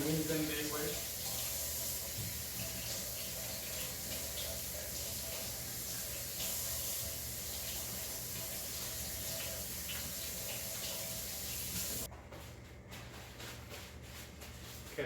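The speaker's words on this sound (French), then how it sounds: "I'm not gonna peel them. I'm just gonna rinse them very well." Tap water runs steadily into a sink while golden potatoes are rinsed, a continuous close hiss that stops abruptly near the end, leaving quieter room tone.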